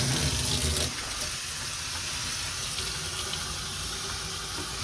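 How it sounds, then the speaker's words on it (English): Tap water rinses a K&N air filter from the inside out over a drain, a steady close rushing stream that starts with a louder gush and then settles into an even flow. "And that's all we do is just rinse from the inside out."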